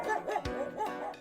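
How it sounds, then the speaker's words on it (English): A dog gives whiny, rising yips with one short sharp bark in the middle, a brief close burst heard on its own. "dog."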